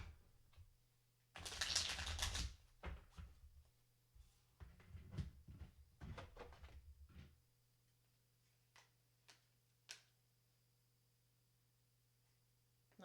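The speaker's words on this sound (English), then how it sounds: "let's shuffle those up" Trekking cards for the board game Trekking the World being shuffled by hand: two bursts of close riffling and rustling, then scattered clicks and taps over a low steady hum, with no talking.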